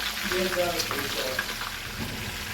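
Red snapper fries in a pan over high heat with a steady, close crackling sizzle, while faint clinks and background sounds mix in.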